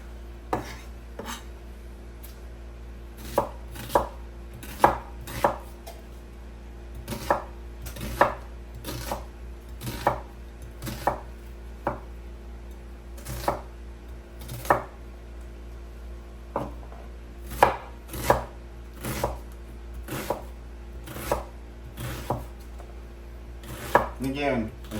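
Steady chef's knife chopping onions on a cutting board, sharp rhythmic thuds in uneven bursts, close up, no voices.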